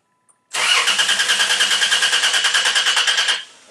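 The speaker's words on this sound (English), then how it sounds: "We're going to crank the engine again." A car engine cranks on its starter during a starter health test, a loud, rapid and even chugging that starts abruptly after a brief click, runs for about three seconds without catching, then stops.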